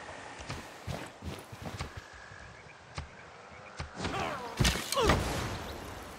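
Horse hooves clop irregularly in Civilization VI, scattered taps that build into heavier, closer thuds amid a soft ambient chirping background.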